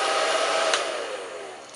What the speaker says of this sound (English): you can take a heat gun or a simple hair dryer